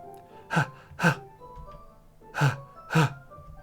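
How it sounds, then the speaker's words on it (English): Four sharp inhales through clenched teeth from the video game Doki Doki Literature Club, spaced in two pairs, close and breathy with quiet gaps between. "A sharp inhale, like someone is sucking the air through their teeth."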